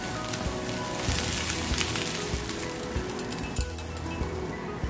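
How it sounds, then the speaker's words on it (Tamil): Sliced large onions sizzle and crackle in a hot pan with coriander seeds and dried chillies for onion chutney, giving a steady close frying hiss with small pops and no talking. "அப்புறமா 2 பெரிய வெங்காயம் ஸ்லைஸ் பண்ணி இப்போ நான் இதில் சேர்த்துக்கிறேன்"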